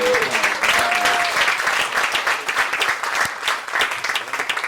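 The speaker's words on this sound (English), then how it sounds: "So give her one more round of applause." An audience at an Easter event gives a full round of applause, dense continuous clapping that stays loud throughout, with a brief voice near the start.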